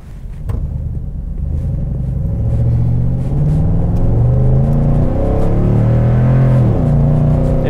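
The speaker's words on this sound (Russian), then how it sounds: "звук выхлопа" A Toyota Tundra 1794 pickup truck's exhaust rumbles loudly and close by, a deep throbbing drone that swells as the engine revs higher and holds steady.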